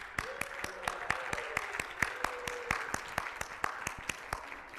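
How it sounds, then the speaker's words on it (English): Church congregation at a Sunday service applauding people celebrating birthdays, sparse and close with distinct individual hand claps in an uneven rhythm, while a sustained tone hums underneath. "let's applaud you"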